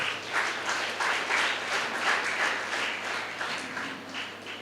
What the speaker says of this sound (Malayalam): അദ്ദേഹത്തിന് ഒരു ബിഗ് ക്ലാപ്പ് കൊടുത്തുകൊണ്ട് നമുക്ക് തോന്നും.